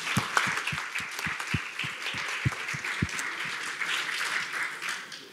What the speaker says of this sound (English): I would like to set a round of applause to all of you